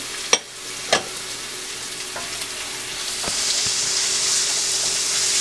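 Green chillies and peppercorns sizzle in a hot pan of oil while egg korma is cooked, with a couple of sharp pops early on and a steady frying hiss that swells louder toward the end, no talk.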